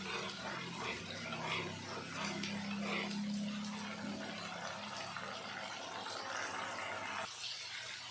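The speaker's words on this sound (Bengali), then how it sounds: "মিক্সির জারটা ধুয়ে একটু জল দিয়ে দেবো" Water is poured into a mixer grinder jar to rinse it in a home kitchen, a quiet, steady trickling wash with a faint low hum beneath and a brief drop-off near the end.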